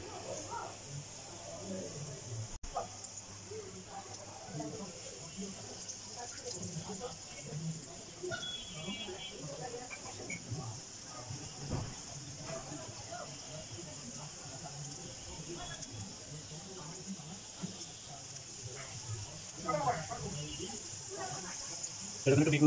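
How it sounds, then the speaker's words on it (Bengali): Chicken French fries frying in hot oil, a faint, steady hiss and crackle of bubbling oil running throughout, with someone talking quietly over it. "ঝাঁকি দিয়ে আস্তে এরকম তেলে ছেড়ে দিতে হবে।"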